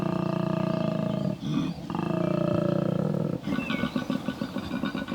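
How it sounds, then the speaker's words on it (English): A male koala's bellow: a deep, rasping, snore-like roar that pulses in rhythmic inhaled and exhaled phrases, loud and close, with no talking. "a koala's bellow can announce his presence up to 1 kilometre away"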